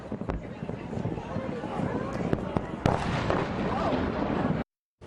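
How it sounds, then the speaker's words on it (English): Dense crackling and popping bursts overlap with sharp bangs, an extended fireworks finale heard as a busy continuous barrage from a distance, then a brief cut to silence. "eyes turned to the skies after dark for an extended fireworks finale."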